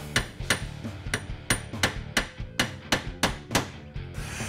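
Hammer taps drive a roll pin into a distributor gear, about a dozen sharp, evenly spaced metallic strikes, close and clear with nothing else heard.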